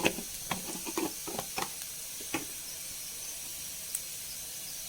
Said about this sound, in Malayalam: ഞാൻ ഇളക്കി കൊടുക്കാം